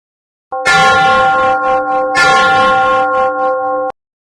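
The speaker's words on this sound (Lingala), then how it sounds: "Ngonga ebeti." A church bell rings loud and close in two resonant strikes, the second landing about a second and a half after the first, with a long humming decay sustained throughout before cutting off abruptly.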